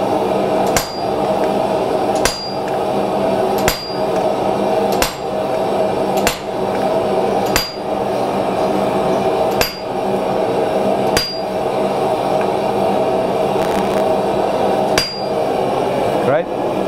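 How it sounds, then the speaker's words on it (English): A power hammer forges a spear blade in a smithy, loud continuous rapid pounding with a sharp clang about every one to two seconds across the whole stretch, no voices. "I prefer using the power hammer."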